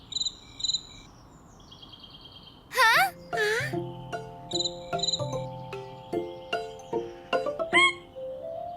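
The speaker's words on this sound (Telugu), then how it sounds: "కీచురాళ్ళు" Short bursts of cricket chirping, repeated on and off, mixed with voices and bright musical tones.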